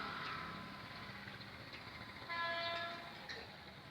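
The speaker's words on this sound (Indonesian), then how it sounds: "Ada kereta lewat lagi nih" A train rolls past a railway level crossing near Sedadi station with no crossing alarm sounding, a distant, steady rumble joined by a brief horn midway.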